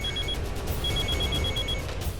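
A telephone rings with repeated electronic trills in short bursts, steady and fairly close, with no one answering or speaking.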